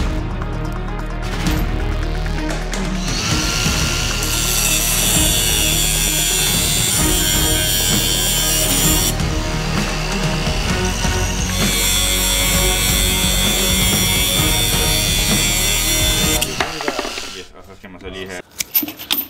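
An angle grinder cuts through a fabric-covered bicycle chain lock, a loud, sustained abrasive whine with harsh metallic scraping that runs steadily for about sixteen seconds, then stops abruptly, followed by a few clattering handling noises.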